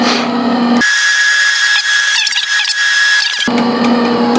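A Northern MIG welder feeding wire after the trigger is pulled: a steady mechanical whir from the wire-feed motor, close and fairly loud, holding for about three seconds amid a continuous hum.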